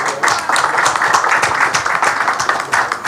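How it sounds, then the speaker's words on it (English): Dense, steady applause from a crowd at a Filmfare Awards 2024 press meet, continuous clapping that fills the space at an even, loud level throughout. "please give a huge round of applause for all our esteemed dignitaries with us today"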